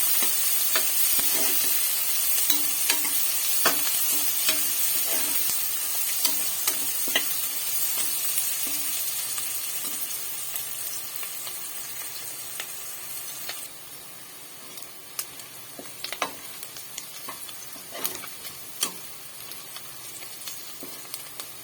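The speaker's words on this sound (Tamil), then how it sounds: "இந்த வெங்காயம் பூண்டு நல்லா இதில் எண்ணெயிலே வதங்க விட்டுக்கலாம்" Onion and garlic sautéing in oil in a pan, a steady close sizzle and hiss with occasional sharp spatters and stirring clicks, easing slightly toward the end.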